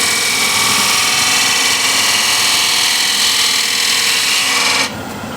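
A bowl gouge cuts cross-grain wood on a lathe, a loud continuous rasping shave over the motor hum that stops abruptly near the end, with no talking.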